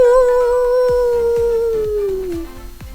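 A voice imitates a long dog or wolf howl, a single sustained tone sliding slowly downward, loud and close, with soft rhythmic musical thumps underneath.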